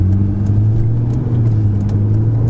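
A Ferrari 488 GTB cruises in sixth gear at low road speed. The engine gives a loud, steady low drone with road rumble from inside the cabin, and there is no talking.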